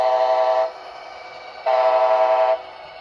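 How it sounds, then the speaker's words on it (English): An HO scale model Amtrak locomotive sounds its horn in two sustained, close, loud blasts, the second a little longer, with a short quiet gap between them. "Now arriving on track 1, southbound train 183."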